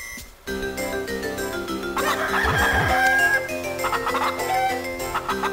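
Cucco chickens in the Zelda: The Minish Cap video game cluck and crow amid bright, looping game music, the bird calls rising over the melody through the middle of the stretch with no talking.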